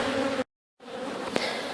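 Honeybees shaken from brood frames during a backyard hive inspection buzz in a close, dense drone that cuts out briefly and then resumes with a small sharp spike.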